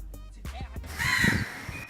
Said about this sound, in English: There's a crow just there.